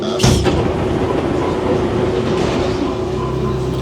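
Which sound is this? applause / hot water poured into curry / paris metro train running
paris metro train running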